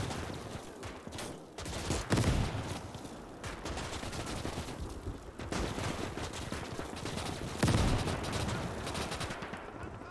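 Bursts of enemy machine-gun fire ring out in a World War II Eastern Front battle game, dense rattling volleys running steadily with a few heavier booms, with no talk over them.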